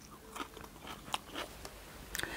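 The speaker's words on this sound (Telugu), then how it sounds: "ఉల్లిపాయ కొరుకుతానండి." Crisp crunching bites into a raw onion during a meal of Mughlai chicken dum biryani, several sharp close crunches with soft chewing between them in a quiet setting.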